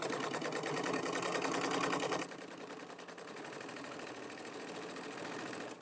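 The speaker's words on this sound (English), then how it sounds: "I do always back stitch right at the start" A sewing machine runs fast and loud at the start of a tote bag seam, its rapid needle rhythm dropping to a slower, quieter steady stitching partway through, alone with no talk.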